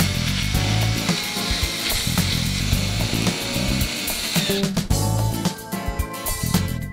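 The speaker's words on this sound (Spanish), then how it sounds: "Nuestra rueda la vamos a fijar con nuestros tornillos de madera." Wood screws being driven to fix a wooden wheel onto a toy train built from fruit crates, a loud whirring power-tool buzz with scraping and grinding of wood, a brief pause near the end, then more driving.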